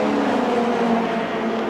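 BMW and Vauxhall touring cars race at Brands Hatch level pace, engines roaring loud and continuous as they pass close by, a steady powerful drone with no voices.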